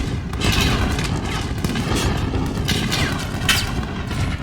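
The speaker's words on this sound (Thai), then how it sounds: "มันยิงมาแล้วมันยิงมาแล้ว มันยิงมาแล้วโอ้ย" Gunfire and explosions from the video game Call of Duty: Modern Warfare form a dense, continuous barrage of booming shots and blasts near a tank, with no pause at any point.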